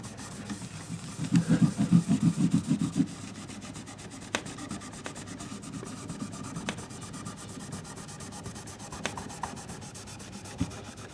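Rag rubbing cleaner over a guitar body to lift residue, a soft, close scrubbing with a brief burst of quick back-and-forth strokes early on, then quieter light wiping and faint ticks over a low background hum.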